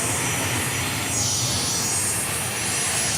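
Loud, continuous jet roar from a Cessna Citation X business jet at Dallas Love Field, a broad steady rush with a rising and falling whine as it passes nearby, no speech.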